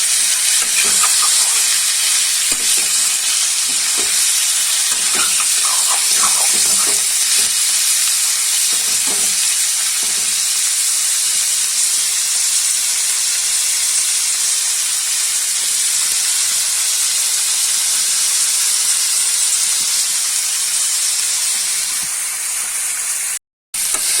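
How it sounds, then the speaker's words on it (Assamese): Pork sizzles steadily in a frying pan, a continuous loud hiss with occasional spatters and stirring scrapes, running alone without talk before cutting off abruptly near the end. "অলপ দেৰি ফ্ৰাই কৰিব লাগিব গাহৰি মাংসখিনি"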